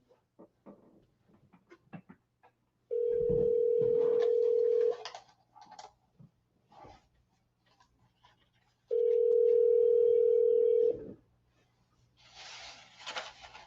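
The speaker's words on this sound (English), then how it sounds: "Let's see if this guy picks up the phone" A telephone call rings out while waiting for pickup: two long, steady ringback tones about two seconds each, separated by several seconds of quiet with faint background noises, loud and clear on the line.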